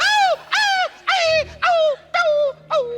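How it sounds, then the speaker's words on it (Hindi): A dog yelps in repeated high, whining cries, six sharp bursts in quick succession, loud and close with no talk over them. "बकरी कुत्ते पे गिरी है ना, तो कुत्ता तो चिल्लाएगा ना"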